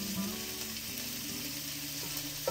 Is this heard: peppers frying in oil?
yes